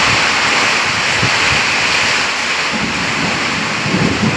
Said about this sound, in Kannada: ಜೋರ ಮಳೆ ಬರ್ತಾ ಇದೆ ವೀಕ್ಷಕರೇ.